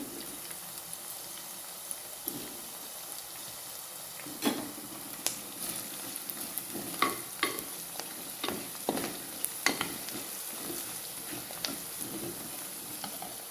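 Turmeric powder and spices frying in hot oil for a Kerala-style fish curry, a steady low sizzle broken by sharp scraping stirs from a spoon against the pan that grow more frequent partway through.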